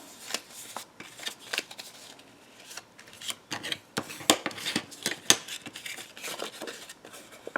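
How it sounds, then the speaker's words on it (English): Paper score lines being burnished by hand, a series of close, crisp rubbing and scraping strokes in uneven bursts, with no talk. "then we'll just burnish those score lines"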